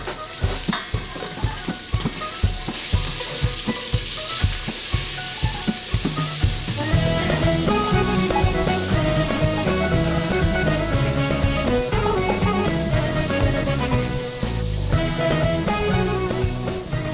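Minced meat frying in sunflower oil in a pan gives a close, steady sizzle and crackle throughout, without anyone speaking.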